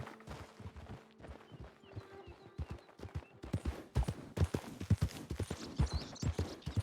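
Horse hooves clip-clopping in a Wild West roleplay video game, irregular steps that start light and grow louder and busier in the second half, with faint game sounds behind them.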